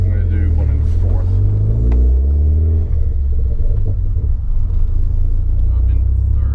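A Vauxhall Corsa VXR with a remapped engine pulls hard in fourth gear, a loud, deep engine drone and rumble rising steadily in pitch from inside the cabin throughout.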